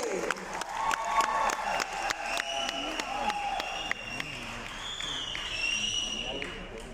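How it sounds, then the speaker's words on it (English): Audience applause and cheering at a corporate excellence celebration gala honoring a company founder, a broad crowd clatter running steadily throughout with sustained tonal music or voices overlaid. "Once again, a huge round of applause to Mr. Thomas MJ."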